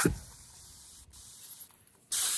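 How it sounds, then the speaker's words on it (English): A razor is rinsed under a spray of water during a cold outdoor wet shave, giving a steady hiss that runs for about two seconds before a louder burst at the end. "I'm just spraying off my razor."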